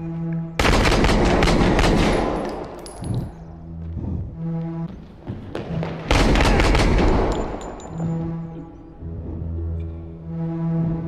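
Gunfire in an Unreal Engine 5 game trailer: two heavy bursts of loud, rapid shots crash in close, each trailing off into sustained musical tones and low rumbling between volleys.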